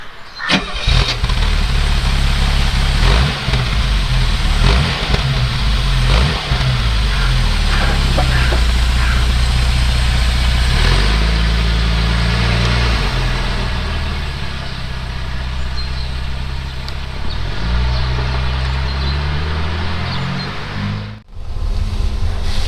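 A 1981 Mercedes 280CE W123 with a four-speed automatic runs at idle, a loud, steady, low engine hum with a few clatters and shifting tonal bands, nearby and without speech, cutting off briefly near the end.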